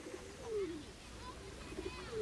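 Pigeons coo softly in a park, a few low, rolling coos rising over a steady outdoor hum.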